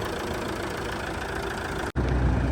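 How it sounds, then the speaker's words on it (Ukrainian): A 2015 Fiat Freemont 2.0 diesel engine idles steadily with an even, clattering rumble, briefly cut off for an instant before the same idle continues. "Мотор працює чітко, рівненько"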